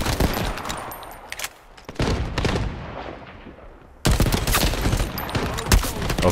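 SMG fire in the online shooter Shatterline: loud, dense automatic bursts with a short pause between them, then another sustained volley, all close and heavy.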